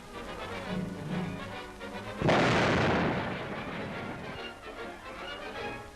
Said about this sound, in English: This team fires a Nazi 88mm monster.